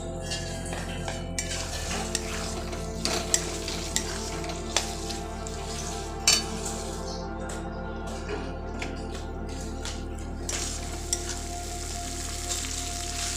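Mutton fat and liver sizzling and frying in a pan while being stirred, with occasional clinks of a metal spatula against the pan; steady close sizzle with no talk.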